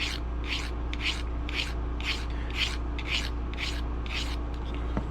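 A file rasps across the edge of a traditional broadhead in nine evenly spaced strokes, close and distinct, over a faint steady hum.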